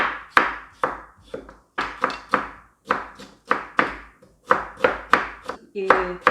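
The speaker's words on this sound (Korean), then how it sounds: "채 썰어 주세요. 또 감자도 채 썰어 주시고요." Potatoes and vegetables are julienned with a knife on a cutting board, sharp chopping strikes coming in quick irregular bursts, close and loud, with a brief clatter at the end.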